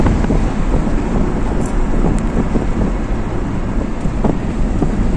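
Strong wind buffets the microphone in a steady roar with gusty surges, loud and close, heard while travelling outdoors on a journey, with no voices.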